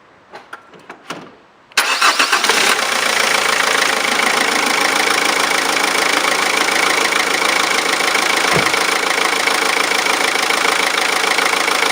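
A few quiet clicks and cranks lead into a car engine catching, then it idles steadily and loudly up close for the rest of the time.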